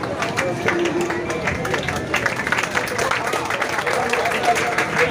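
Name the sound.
applause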